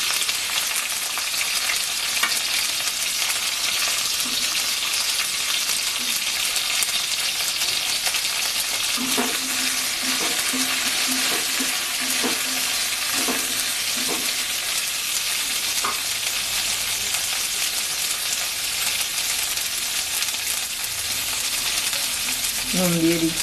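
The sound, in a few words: frying yardlong beans (borboti) in a pan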